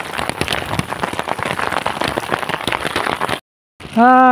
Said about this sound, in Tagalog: tumila na po ang ulan